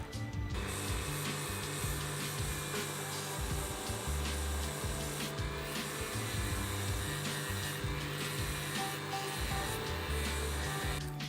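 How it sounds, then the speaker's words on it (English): A Dremel rotary tool runs on its lowest speed, spinning a rubber pinch roller from a 1984 Pioneer CT-A7 cassette deck against very fine sandpaper. It gives a steady, close, continuous whirring hum with a gritty, fluctuating sanding rasp. "put it on the lowest speed, hold the pinch roller against it, and at the same time go over it with some very fine sandpaper"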